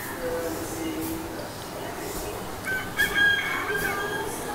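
Native chickens cluck at a home in Salem, India while a rooster crows, with people talking nearby over steady outdoor noise.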